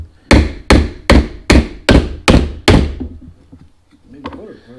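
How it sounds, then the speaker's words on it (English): Hammer striking the shaft of a trolling motor during repair, seven loud, evenly spaced metallic thuds about a beat apart, followed by quieter rustling and a faint voice. "Back with the hammer."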